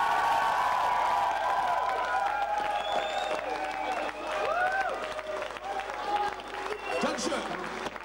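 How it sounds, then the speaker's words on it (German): A live concert crowd at a fan club gathering applauds loudly and continuously, with scattered cheers and voices mixed into the clapping. "Und da bitte ich um einen ganz kleinen oder einen ganz großen Applaus."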